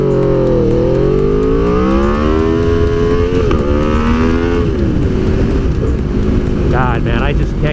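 A sport motorcycle, either a Ducati V4S or an Aprilia RSV4, accelerates hard through the gears, loud close engine pitch climbing then dropping at each shift with a raspy high-revving drone throughout.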